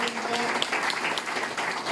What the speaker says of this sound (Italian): A loro va il nostro applauso